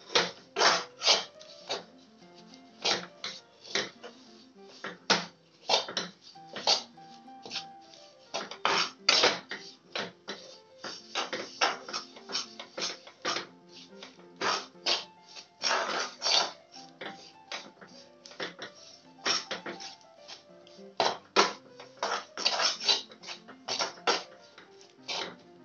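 Jaggery melting in a pan for homemade peanut chikki is stirred and turned repeatedly, giving a dense run of close scraping and clinking spoon-on-metal knocks in an uneven rhythm, with no talk.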